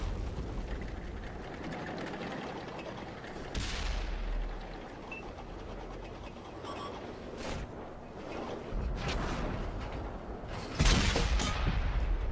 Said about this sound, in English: That was me shooting the rock in front of me.